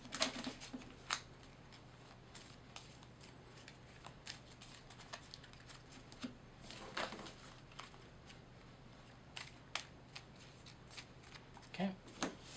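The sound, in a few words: shuffling a deck of game cards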